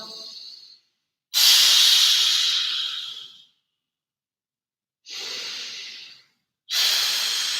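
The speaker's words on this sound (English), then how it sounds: "I hold the ribcage there as I inhale." A person does a core breathing exercise with deep, airy breaths, each a long hissing rush of air lasting about two seconds, separated by silent pauses, close and clear with no talk.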